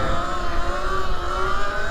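An E-Ride Pro SS 2.0 electric motorcycle pulls a power wheelie, its motor holding a strong, steady whine under a rushing low roar, close and loud throughout with no voices.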